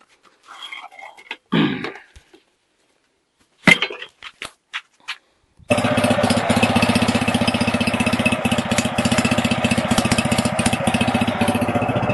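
A homemade mini tractor with a Zhiguli carburetor is run in. After a few sparse knocks and clatters, the engine starts abruptly and keeps chugging loudly and steadily, close by, until the end.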